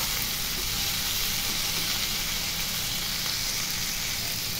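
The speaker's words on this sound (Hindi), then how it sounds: "देखिए फ्रेंड आपका मसाला भूंज रहा है" Khichdi masala with mixed vegetables roasting in a pan, a loud, even, continuous sizzle and hiss throughout, close and unbroken, with no voices.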